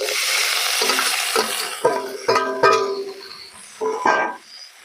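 Greens being stirred into a spice paste frying in a pan for a jackfruit-seed greens dish: loud, steady sizzling broken by several distinct scraping stirs and clatters, with no talking.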